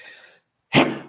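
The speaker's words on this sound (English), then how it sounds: "It wouldn't be right if I didn't sneeze in my video." A single sharp sneeze bursts out loud and close after a brief lull, preceded by a fainter breathy intake.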